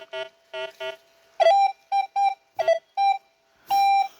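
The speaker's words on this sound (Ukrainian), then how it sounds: "Так, знов сигнал. Тобто, чуєте, да? це є чорний метал десь тут." A Rutus Versa metal detector beeps over buried black metal. Its electronic tones come in short bursts: a quick run of three, then a tighter cluster of louder pips, ending in one longer beep. They are clear and close, with no voices.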